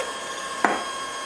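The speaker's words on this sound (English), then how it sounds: "And then I'm using a electric hand whisk." An electric hand whisk beats salted egg whites to stiff peaks, giving a steady motor whine with one sharp click partway through.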